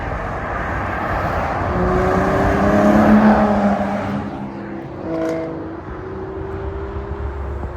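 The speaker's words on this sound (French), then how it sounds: "Oh, GT3 RS 991 phase 2 là." A Porsche 911 GT3 RS of the 991 phase 2 generation sweeps past on a Normandy motorway, its engine note swelling and falling away over several seconds amid steady traffic roar.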